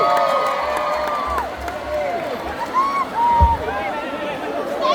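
A live concert crowd at an iBox event in Makassar cheers, whistles and applauds for the keyboardist, a continuous loud roar of cheering with whoops rising and falling while a presenter talks over it.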